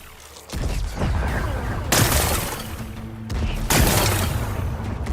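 Rocks blasted apart in the video game Horizon Forbidden West, heard as a loud, close run of explosive booms and crackling debris that rises in several surges with no talking.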